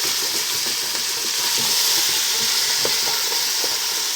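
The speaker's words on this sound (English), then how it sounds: "we're gonna cook these and try to scrape off the bottom of the pan to get all those crusties off the bottom" Vegetables sizzle loudly in a hot pan for beef stew while a utensil scrapes and stirs across the bottom, producing rhythmic scraping strokes over a constant close frying hiss.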